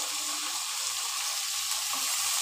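Tomatoes frying in hot oil in a pan for a prawn curry, a soft, steady sizzle and crackle, close and fairly quiet, running continuously with no talking.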